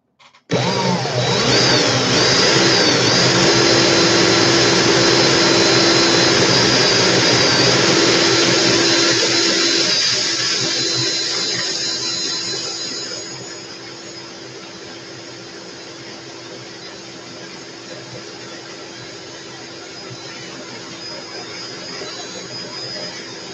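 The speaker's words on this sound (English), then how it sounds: "Now that I got the feeling, I can speed up my drill." A power drill whirs loudly during a pop-up camper build, a steady high motor whine that holds strong for about ten seconds, then eases down to a quieter, lower hum for the rest.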